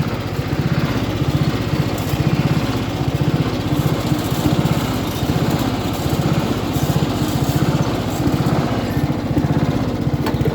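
A ride-on mower or small tractor engine runs continuously and close by, with a steady, rapidly pulsing chug and no voices.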